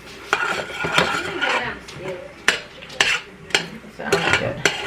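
Chicken parmesan pan-frying alongside wilting spinach while it is stirred and turned, with repeated sharp clatters of utensil against pan over a low steady sizzle, close and fairly loud.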